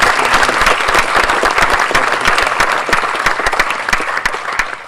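An audience applauds to welcome Dr. Stephen Wolfram at a university colloquium, with dense, steady clapping from many hands filling the hall at close range and no voices over it.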